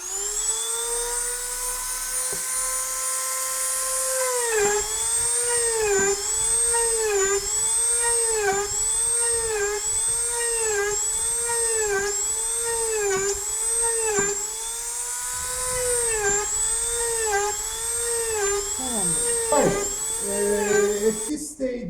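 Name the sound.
rotary drill engraving with drill bit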